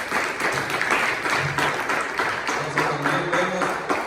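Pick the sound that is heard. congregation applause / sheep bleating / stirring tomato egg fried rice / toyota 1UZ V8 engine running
congregation applause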